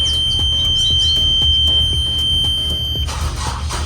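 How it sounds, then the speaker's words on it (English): A boat engine's oil pressure safety alarm beeps in a steady series of sharp, loud tones over a low engine rumble, with a different burst of noise near the end. "it's gonna beep until the engine gets running"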